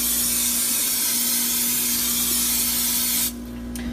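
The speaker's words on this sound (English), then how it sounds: "I'm just going to use the Pam, the original spray." A continuous hiss of a Pam original cooking spray can, held for about three seconds before cutting off abruptly, close by with a low background hum.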